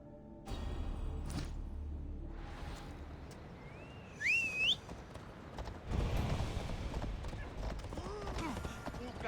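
Horse hooves clip-clop in Assassin's Creed Odyssey, the steady footfalls mixed with whooshes and a rising whistling tone amid faint game ambience.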